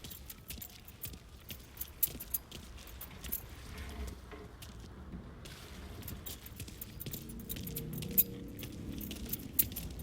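Keys jangle and clink in short metallic bursts, scattered over about ten seconds, close and fairly quiet, with a low background rumble from the Mafia 3 video game.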